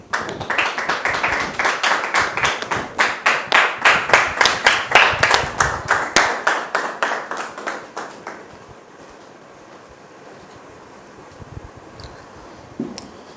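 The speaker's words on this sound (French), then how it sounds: "Merci de la recevoir sous vos applaudissements." Audience at a French-language church testimony program claps in unison, a loud rhythmic beat of synchronized clapping that fades after about eight seconds into quiet room noise.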